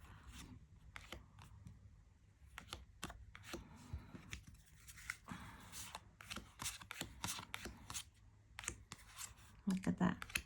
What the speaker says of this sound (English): it's a great deck, and it shuffles so well.